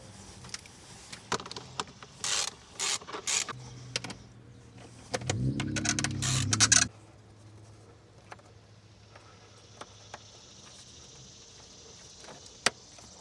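Ratchet work on the intake clamp bolts of a Toyota Tacoma during a cold air intake install: quick, close clicking bursts in the first seconds, a short louder rattle around the middle, then sparse faint ticks.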